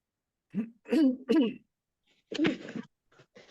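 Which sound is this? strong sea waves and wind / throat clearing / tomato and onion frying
throat clearing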